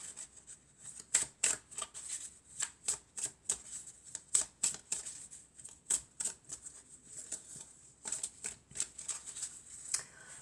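A deck of Oracle of Venice cards is shuffled close up, with a quick run of crisp riffling bursts in an uneven rhythm and near-quiet gaps between them.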